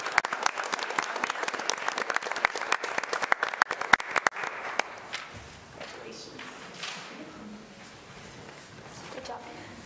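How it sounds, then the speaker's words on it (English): A group of people at a school board meeting clap together in a dense burst of applause lasting about five seconds, then it fades into low room noise and murmuring. "We'll do a group clap."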